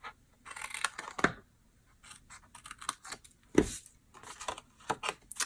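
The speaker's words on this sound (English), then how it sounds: "just cut little pieces out like this" Scissors cut small notches into paper for a handmade gift card box: a series of crisp, close snips and papery clicks, some sharper than others, spaced unevenly with quiet gaps in between.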